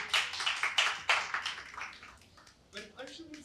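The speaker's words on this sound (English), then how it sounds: "Big round of applause." Audience applause at a graphic novel launch event with two celebrity guests, a burst of clapping that fades within a couple of seconds before a voice starts speaking.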